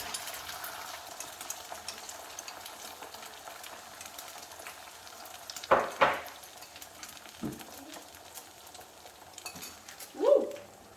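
Egg frying in hot oil for Ghanaian angwamo, a steady sizzle throughout with a few louder crackling bursts and clinks of a utensil stirring in the pan.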